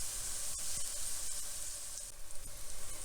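Tofu crisping in a hot pan gives off a steady, dense sizzle with faint clicks and light stirring scrapes throughout, close and continuous, with no voices.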